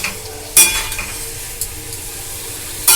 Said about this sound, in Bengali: এটা আমি গ্রেট করে দিয়ে দিলাম, দিয়ে টমেটোর সঙ্গে এটাকে কষে নেব।